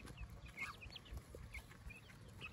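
Chickens in a suburban permaculture backyard, including a big bully bird that may be a rooster, cluck in faint, scattered short calls over a low, quiet background.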